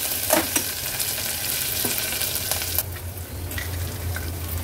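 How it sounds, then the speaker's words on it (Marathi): Mustard seeds, cumin, chillies, curry leaves and crushed garlic sauté in hot ghee, a steady close sizzle with sharp spatula scrapes and a few crackling pops, no voices. "थोडीशी ही फोडणी अशी परतून घ्यायची आहे"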